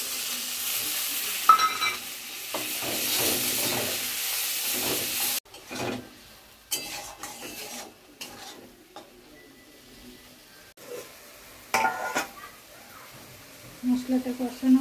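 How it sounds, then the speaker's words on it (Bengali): Spice paste of chili powder, meat masala and turmeric frying in a pan, a steady hiss and sizzle for the first five seconds, then intermittent scraping and stirring with brief spatters under occasional talk. "মশলাটা কষানো হয়ে গেছে"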